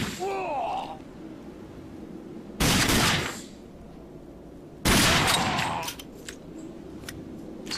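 Gunfire from the video game RAGE, two loud bursts of rapid shots about two seconds apart followed by scattered single pops, with a voice heard briefly at the start.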